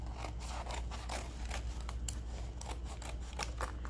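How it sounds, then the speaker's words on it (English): Scissors snip and slice steadily through a sheet of paper to cut it in half for a craft journal project, a close series of crisp rhythmic cuts over a constant low hum. "Let me go ahead and cut it in half so I can get around all 4 edges."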